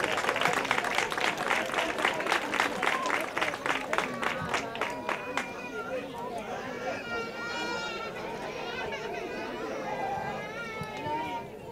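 Applause from the audience at an end-of-year school ceremony in Almonte: sustained clapping for several seconds, then thinning into crowd chatter and children's excited voices, fairly loud and close.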